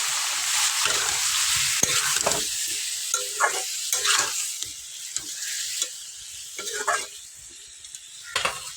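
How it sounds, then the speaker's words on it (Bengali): Rohu fish curry with onion paste, potato and raw banana sizzles and crackles steadily in a pan, with scrapes and clinks of a spoon stirring it close up throughout. "আমার তরকারি সাঁতলানো হয়ে গেছে"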